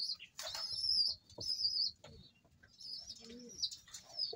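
Close, faint wing flapping from a racing pigeon comes in short bursts, with a low coo and scattered light chirps in a quiet setting.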